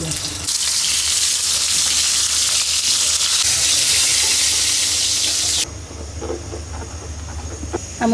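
Eggplant slices frying in oil in a home kitchen, a loud broadband sizzle that drops off sharply partway through, then quieter clatter and faint background voices.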